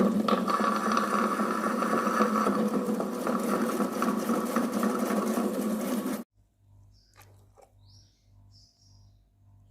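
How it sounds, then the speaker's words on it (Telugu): A mixer grinder whirring through tamarind and red chilli pickle paste, a loud steady motor drone with chopping rattle for about six seconds, then it stops abruptly leaving a faint hum and small clicks. "సో ఇప్పుడైతే దీన్నైతే గ్రైండ్ అయితే చేసుకుందామండి."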